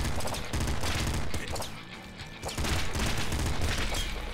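Loud, dense assault rifle fire in the video game Nuclear Throne: rapid continuous bursts close up, a brief dip near the middle, then sustained shooting again.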